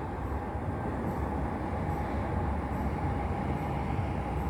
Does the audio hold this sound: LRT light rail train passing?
yes